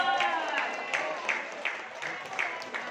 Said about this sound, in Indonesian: Tepuk tangan dong dari Bogor.